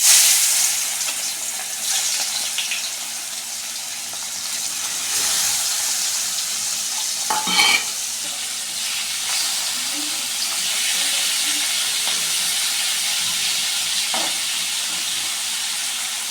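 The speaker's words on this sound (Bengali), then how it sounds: "চিংড়ি মাছটার মধ্যে লবণ হলুদ দিয়ে মেখে নিয়েছি, এবার আমি এগুলোকে গরম তেলে ছেড়ে দেবো" Turmeric and salt coated shrimp frying in hot oil, a steady bright sizzle that starts loud, settles into a continuous hiss, and is broken by a few brief clatters and stirring sounds nearby.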